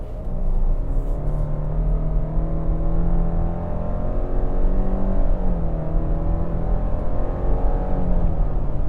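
A 2025 Subaru Outback Limited accelerates on the road, its engine rising in a steady, smooth drone with road rumble underneath, loud and continuous with no talking.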